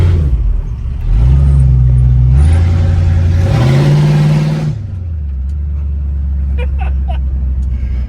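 A classic Ford Mustang with a mostly stock 302 V8 revs hard on a first test drive, its loud engine rising and holding, then dropping back to a deep steady rumble. Faint voices come through near the end.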